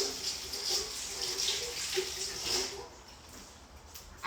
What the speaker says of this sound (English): I'm actually just gonna rinse them.